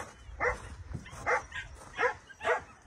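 Young puppies indoors whimper and give soft yips in four or five short bursts about half a second apart, fairly quiet and close, with no talk.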